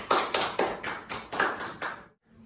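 A small audience claps after a student answers a biology quiz question correctly, giving a short burst of about eight distinct, evenly paced claps that stop abruptly.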